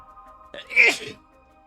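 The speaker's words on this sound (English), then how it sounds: "I gotta sneeze." A single sharp human sneeze, brief and close, bursting out of a quiet background with a faint steady hum.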